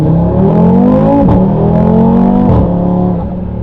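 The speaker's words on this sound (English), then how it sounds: "the V10 sound in this is insane. That 5-cylinder comes alive." A loud 2024 Audi RS3 8Y five-cylinder engine revs up with a rising, throaty drone, dips briefly, then climbs again before easing off, close and unaccompanied by talk.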